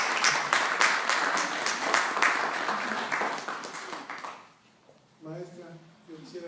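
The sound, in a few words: applause for the children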